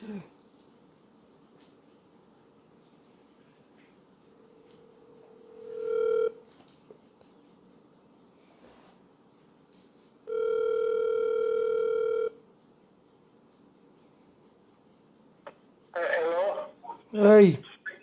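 A phone call being placed gives two steady electronic ring tones, a short one and then a longer one, sounding alone in a quiet room before a voice briefly answers at the end.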